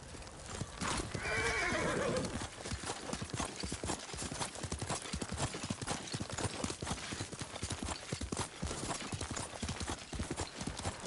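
A horse whinnies loudly near the start, then its hooves clip-clop steadily and close by in a quick, unbroken rhythm for the rest of the stretch.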